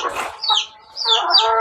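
A chicken clucking up close, a few short squawking clucks with a brief pause in between.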